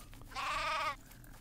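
A sheep in the video game Craft The World gives a single wavering bleat lasting about half a second over a quiet background.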